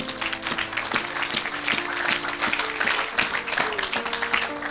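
A church congregation at a worship service applauds in sustained, loud clapping that fills the room, with a murmur of crowd voices underneath.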